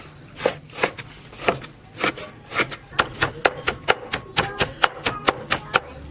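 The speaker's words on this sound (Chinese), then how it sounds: "现在把苦菜切碎" A knife chops wild bitter greens (kucai) on a board in a steady, close series of sharp knocks that quicken and tighten toward the end.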